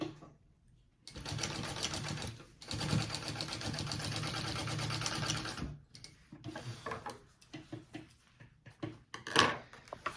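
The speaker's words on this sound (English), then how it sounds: "I will fully sew the lining" A sewing machine stitches the lining of a mini backpack to the other side in a few long, steady runs broken by short pauses, close and clear with no talk.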